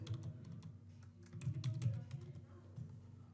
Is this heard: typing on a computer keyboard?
yes